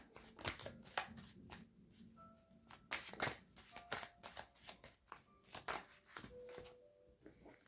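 Tarot cards are drawn and shuffled by hand in a quiet room, giving a run of soft, rapid riffling and slapping strokes that come in repeated bursts.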